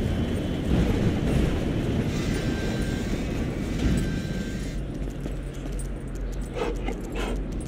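In GTA, a train rumbles past with a steady heavy roar and rattle that eases slightly toward the end, while a dog's faint whimpers show up in the mix.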